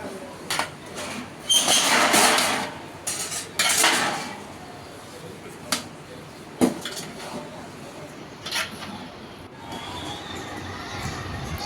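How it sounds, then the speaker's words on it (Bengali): Biryani is mixed in a cooking pot after resting on dum, with scraping and clinking of a spoon against metal in irregular bursts, some louder strokes and quieter gaps, over faint background noise. "এখন মিশিয়ে নিচ্ছি নেড়ে চেড়ে।"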